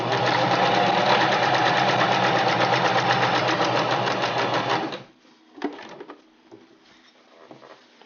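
A sewing machine runs steadily at speed for about five seconds while stitching a hoodie sleeve, a dense rapid mechanical whir, then stops abruptly, leaving faint handling clicks and a quiet room.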